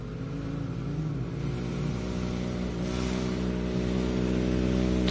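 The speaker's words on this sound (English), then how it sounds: "Another car crossing the line now" An Ultra4 off-road race car crosses the finish line at Visions Off Road in Jay, Oklahoma, its engine droning steadily with a rising, revving tone, heard from a moderate distance and carrying on for several seconds.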